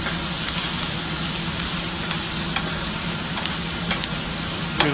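About a tablespoon of garlic sizzling in a hot pan during a honey BBQ shrimp cooking demo, a constant crackling hiss with a few scattered sharp pops and taps.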